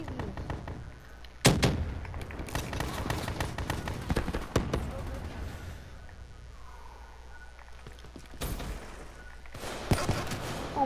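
Gunfire in the video game Black Ops III, including sniper rifle shots, cracks out in sharp bursts and scattered single shots over busy game noise, with players talking throughout.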